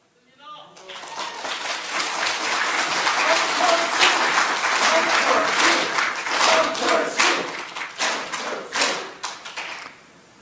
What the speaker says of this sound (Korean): 너무 빨리 박수 치셔서요